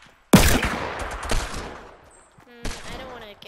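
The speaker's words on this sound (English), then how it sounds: "Nope, yep, that's a gunshot." Gunfire in a video game: a loud, sharp gunshot burst rings out and decays, followed by quieter scattered shots and a later echoing report.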